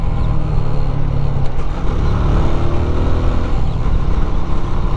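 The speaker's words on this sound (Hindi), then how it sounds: "ओहो आरपीएम कुछ ज्यादा ही चला गया" A truck engine revs up hard to high RPM, a loud, close, sustained roar with rising and falling harmonics and no voices over it.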